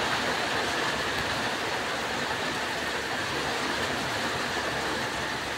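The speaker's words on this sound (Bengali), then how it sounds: "টিনের পরে টপ টপ করে শিল পড়ছে" Hail pelting a tin roof during a thunderstorm with lightning blends into a dense, unbroken roar, with no separate taps standing out, and keeps an even, moderate level the whole time.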